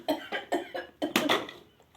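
A sick young child coughs repeatedly in a quick series of about six short, dry coughs, close to the microphone, tapering off at the end.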